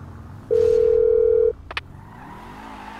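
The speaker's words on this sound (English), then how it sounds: "hit me on the speakerphone, Long." Phone dialing on speakerphone in Grand Theft Auto V: a one-second steady tone, then brief keypad beeps over a low car engine hum.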